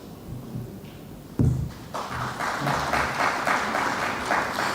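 Audience applause at an official opening ceremony rises after a thump into sustained, dense clapping from a large crowd, filling the room at an even moderate level.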